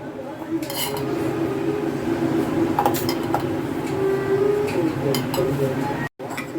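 Spoonfuls of flour scraped into a bowl of cornflour for crispy chicken lollipop batter, with steady metal spoon clinks and scraping throughout, close and fairly loud against a constant background hum.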